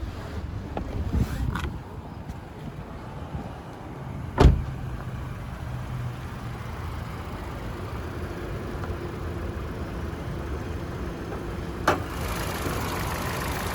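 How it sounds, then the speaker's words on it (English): A 2019 Toyota Corolla Ascent Sport hatch idles steadily under the open bonnet, a low, even engine hum with light wind buffeting the microphone and a couple of sharp knocks. "we'll have a look underneath the bonnet while she's still running for you"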